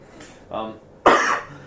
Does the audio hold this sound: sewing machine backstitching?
no